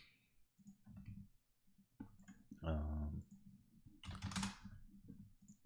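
Computer mouse clicks in Revit software come as sharp, close taps scattered among a man's speech, with a denser burst of clicks near the end.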